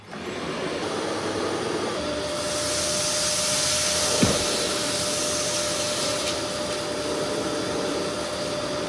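A Eureka WhirlWind bagless canister vacuum cleaner, model NEN110A, runs on carpet, switching on with a rising whoosh and settling into a steady, loud, airy roar with a thin whine. There is a brief bump midway and no talking.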